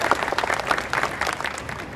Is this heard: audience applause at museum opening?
yes